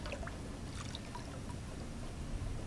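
Water runs from a faucet in Fallout New Vegas, a soft continuous pouring and trickling with faint splashes, quiet and steady throughout.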